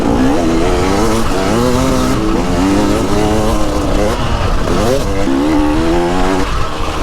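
A motocross dirt bike revs hard on the throttle out of corners on a track, its loud engine note repeatedly rising and falling in pitch across the whole stretch, close and unbroken, with no talk.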